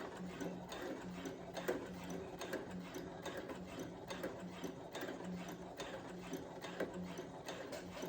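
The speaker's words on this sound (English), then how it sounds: "I'm just gonna get right to the dot and back stitch" Brother CS7000X sewing machine back stitching a dress, a steady fast mechanical whirring and ticking that runs unbroken, quiet and close, with no voices.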